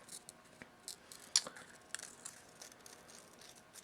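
Scissors snip out a stamped paper image with a few quick, soft cuts, close and quiet, with no voices.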